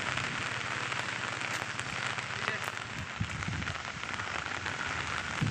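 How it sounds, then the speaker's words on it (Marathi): Steady monsoon rain falls continuously, a broad close hiss of drops over fields with some sharper patter spikes, even in level throughout and with no one talking. "पाऊस आज बऱ्यापैकी चालू आहे"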